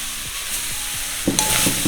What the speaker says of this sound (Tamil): அதுதான் தேங்காய் பூவை போட்டு வறுப்போம்